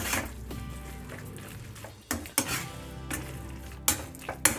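Carrot halwa being stirred in a pan, with scraping spoon strokes and clinks of metal on the pan over a low steady sizzle, sharper knocks near the end.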